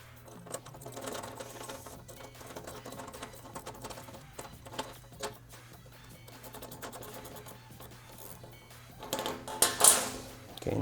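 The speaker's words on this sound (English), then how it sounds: "We'll be using a 3mm Allen and an 8mm box wrench." Bolts on a fender eliminator for a 2018+ Yamaha MT-07 are snugged with a 3mm Allen key and an 8mm box wrench: faint, busy metallic clicking and tapping, with a louder scrape and rattle near the end.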